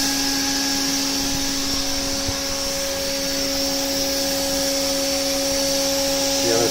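A Smog Hog air cleaner runs in a machine shop, a loud steady close-up whir with a constant hum and hiss that holds unchanged throughout, no other sounds breaking through.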